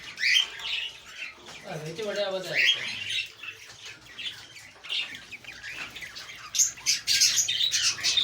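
Parrots and finches at a Sahiwal bird market give off a busy mix of chirps, tweets and squawks, loud and constant from several birds nearby, with someone talking over the calls.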